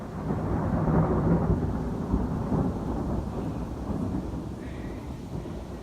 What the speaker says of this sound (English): You're just gonna hear it. The thunder.